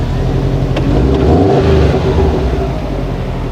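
A Subaru Impreza WRX STI (GDB, early B-type) engine with an unequal-length exhaust runs and revs, a loud steady rumble with a rising surge in the middle before settling back to idle.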